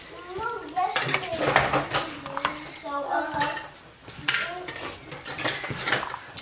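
Corn and black beans are stirred into a pot with a spoon, making repeated scraping and clinking of metal against the pan in uneven bursts, with a voice talking over it at times.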